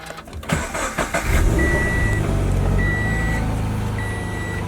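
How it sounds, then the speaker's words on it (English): A Subaru BRZ with a complete electronic failure is switched on: a short cranking burst settles into a steady engine rumble, while warning chimes repeat over it at close range. "So this is what happens when we turn the car on."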